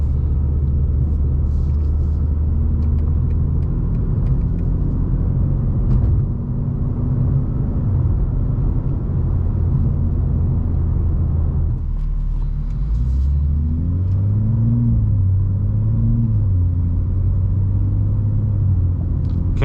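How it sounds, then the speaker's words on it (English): A BMW M2 G87 driving with Sport engine mode and partly open exhaust valves, a steady loud low rumble of engine and exhaust from inside the car, rising and falling through gear changes and acceleration, with no talking. "Sport engine, so the exhaust valves are a little bit more open."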